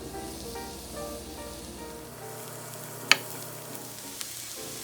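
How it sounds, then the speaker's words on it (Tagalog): Onions fry in olive oil in a pan with a steady, even sizzle, a sharp clink near the middle and a faint tap toward the end. "Sa isang kawali po, ilagay po natin yung olive oil or any other oil. Sunod po natin ng sibuyas."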